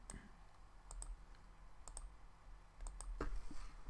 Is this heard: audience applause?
no